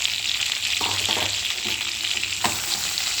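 Onion, garlic and green chillies sizzle in hot oil for a thorny brinjal kuzhambu, a continuous crackling fry broken by a few brief stirring scrapes.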